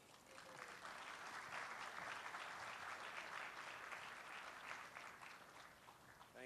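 An audience at an art wall unveiling at a switching station gives a sustained round of applause, dense and even throughout, swelling slightly and then easing toward the end.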